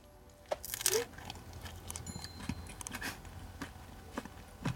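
Crunchy bites and chewing of a Taco Bell Double Stacked Taco with Fiesta strips, several sharp crackling crunches spread out over a few seconds, close up with no talking.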